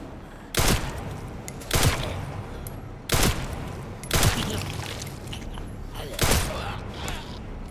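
Gunfire in the video game Resident Evil Requiem comes as five loud, sharp shots spaced about a second apart, each with a short booming tail, over a low background rumble.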